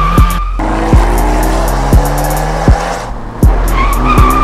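A Fiat 124 Spider turning and braking hard, its tires squealing under a loud, close engine that surges with a series of sharp bursts.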